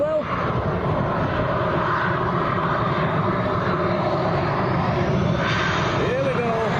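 A Binter Airlines airliner taxiing at Lanzarote airport, its engines giving a loud, continuous, even roar close by.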